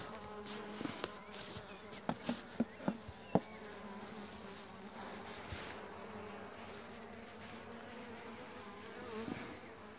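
Honey bees at the hive of a weak colony during a beekeeping inspection hum in a steady, dense buzz, with several sharp knocks and clicks early on and no talking.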